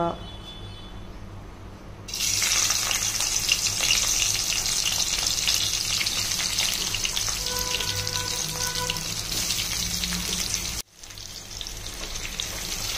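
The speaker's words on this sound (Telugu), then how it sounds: "ఆయిల్లో ఫ్రై చేసుకోవాలండి, బాగా డీప్ ఫ్రై" Sliced bitter gourd deep-fries in a pan of hot oil, a loud, dense, continuous sizzle that jumps up after a quieter start, cuts out briefly near the end, then resumes.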